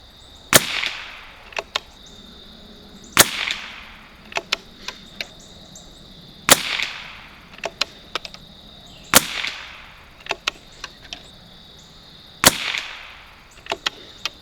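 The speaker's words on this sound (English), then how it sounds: "we're going to start on our 5-shot groups" Rifle shots from a 1972 Anschutz Model 54 Match .22 rimfire with scope, five sharp cracks spaced a few seconds apart over the course of a group, each followed by faint clicks of the bolt, no talking.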